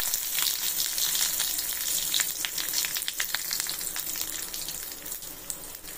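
Curry leaves and dried red chillies sizzling in hot oil, heard close up as a bright, continuous frying hiss peppered with rapid crackles and spits.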